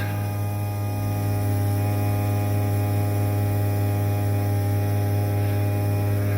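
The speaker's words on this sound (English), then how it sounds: "Okay, so let's have ignition. There go the pumps." Steady electric whine and drone of the fuel pumps on a Lancia Prisma HF integrale running with the ignition on, a constant, loud, tonal hum that holds unchanged throughout.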